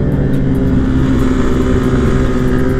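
Two loud Kawasaki ZX-10R superbikes rumble and rev nearby, a thick, steady engine drone with a strong low growl that fills the whole moment without pause.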